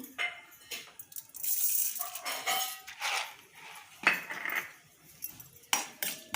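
Chana dal and urad dal roasting in a pan for a bottle gourd peel chutney, heard as irregular clinks and scrapes of a utensil against the pan, moderately close, with no talk.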